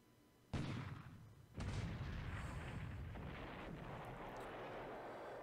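Naval guns on a destroyer fire in a World War II Pacific war game set in December 1941, Japan against the Allies: two heavy booming blasts about a second apart, the second rolling into a long, loud rumble that fills the rest.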